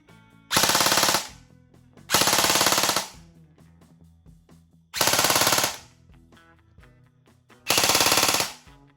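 E&C HKM27 IAR airsoft rifle firing full-auto in four separate bursts, each a loud, fast rattle of shots about a second long with short quiet gaps between, close and with no talking.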